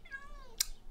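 Cat meows once in the video game Minecraft (Dungeons Dragons And Space Shuttles modpack), a short rising-falling call followed by a brief sharp click, fairly faint.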